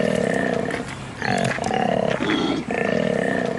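An alpha male koala bellows hard and loud at close range, a rhythmic, snoring, roaring call repeated in long pulses with only brief pauses.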